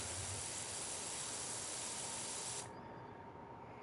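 Pressure washer spraying in the Power Wash Simulator video game, a loud continuous hiss of water jet that cuts off sharply near the end, leaving a quieter steady background.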